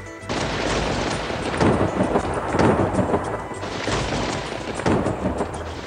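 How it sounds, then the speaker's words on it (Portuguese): Thunder rumbling and cracking in a storm, sustained broadband roar with several louder peaks, heard alone without voices. "Este fenômeno produz um clarão conhecido como relâmpago e também uma onda sonora chamada trovão."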